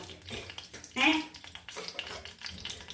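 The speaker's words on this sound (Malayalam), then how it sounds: "അത് എണ്ണ തിളക്കട്ടെ തിളയ്ക്കുന്ന അപ്പം നമുക്ക് കടുകിട്ട് കൊടുക്കാം" Mustard seeds spluttering in hot oil in a home kitchen, a soft crackle and sizzle with a brighter burst of popping about a second in, heard faintly under a voice talking.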